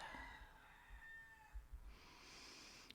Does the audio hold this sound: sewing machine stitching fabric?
no